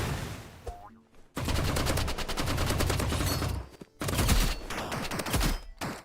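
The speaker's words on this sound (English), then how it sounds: "Kazym has to shoot carefully" Rapid automatic gunshots in the video game Rivals, loud and close in two long sustained bursts with a brief pause and short gaps between them, no talking.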